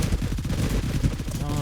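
Rapid automatic gunfire in a shooter video game right after a reload, a dense loud burst of rattling shots filling the whole moment.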